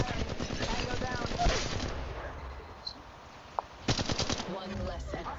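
Automatic weapon fire in the mobile battle-royale shooter Apex Legends Mobile, with rapid bursts of shots, a pause, then another burst, heard under a player's voice.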